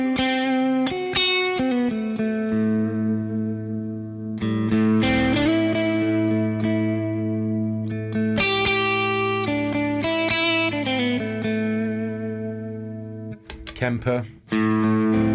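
An electric guitar plays through a Quad Cortex capture of an SLO amp with reverb, sounding distorted sustained chords and single notes in phrases with a reverb tail, ending in a few sharp pick or handling noises.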